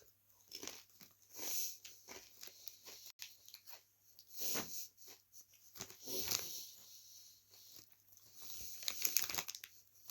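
Close, crisp crunching and chewing of Supreme Prawn Cocktail flavoured potato chips, with repeated bites and crackling bursts, some bag crinkling, and no talking.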